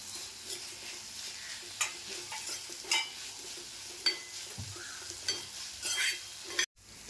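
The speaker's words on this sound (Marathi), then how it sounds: "आता हे व्यवस्थित असं परतून घेतलं आहे" Moringa leaves and soaked lentils being stirred and sautéed in a pan, with soft scraping strokes and a low, steady sizzle; quiet and close, with occasional clinks of the spoon against the pan and no talking.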